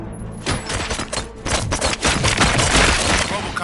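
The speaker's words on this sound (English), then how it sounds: "Gunshots? What's going on?" Rapid bursts of loud gunfire crackle continuously, dense and close, with thuds and booms layered into the chaotic barrage, in the video game RoboCop: Rogue City.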